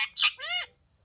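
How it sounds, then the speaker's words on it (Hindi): A pet parrot in its freshly washed cage lets out three quick, harsh squawks in a close, loud burst lasting well under a second, then falls silent. "फाइनली हमारे मिट्टू का जो है ना पिंजरा धुल गया है।"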